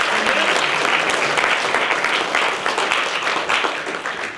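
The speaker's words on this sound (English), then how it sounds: "Can we have a round of applause for everyone for actually getting here this evening?" Sustained applause from an evening debate audience gathered for a motion on religion, dense steady clapping filling the room at close range throughout.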